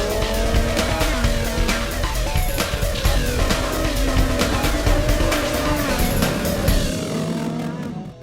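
FPO2 single-seater race cars at a small racing circuit during a JK Tyre Racing Championship round, engines roaring loud and close with rising and falling revs and gear shifts, continuous throughout before easing off at the end.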